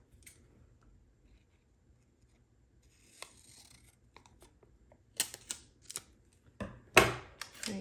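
Scissors cutting paper while a planner is decorated, with a few quiet rustles early on, then several crisp snips and rubbing paper sounds close by that grow louder toward the end.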